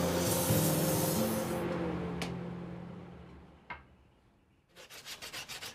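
Broadband rubbing and scraping of sandpaper on the edges of a hickory lacrosse stick, fading over several seconds, with a couple of sharp taps and a quick burst of short strokes at the end.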